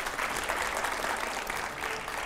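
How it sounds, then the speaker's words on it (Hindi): A TV studio audience at a political interview show claps in steady, dense applause with no break, at a moderate level. "ऑडियंस जरा जोरदार तालियां"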